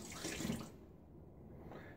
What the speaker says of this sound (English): we're gonna dump out the bloom water